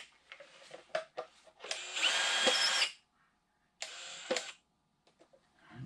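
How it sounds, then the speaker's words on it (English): A power drill spins out a Phillips head screw while fitting an OEM LED headlight on a Honda Pioneer 700 side-by-side, with short whirring bursts and two longer runs of the motor, close and fairly loud, separated by quiet pauses. "I'm going to grab a drill and zip this Phillips head screw out."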